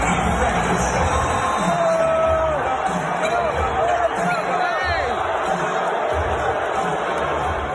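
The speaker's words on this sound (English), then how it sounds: "Do you know how hard it is for an old white guy to get booed at a UFC event?" A large crowd at a UFC event in New York booing, a loud, continuous roar of massed voices with scattered shouts that fills the whole stretch.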